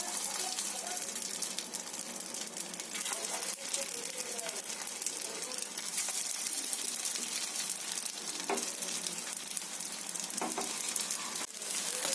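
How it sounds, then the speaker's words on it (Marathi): Sabudana cheese balls cook in hot oil with a loud, continuous close-up sizzle, dotted with small crackles and bubbling bursts throughout. "तेल पण तापलेलं आहे। तर हे जे आपण गोळे बनवलेले आहेत त्याच्यामध्ये एक असं सोडायचं आहे।"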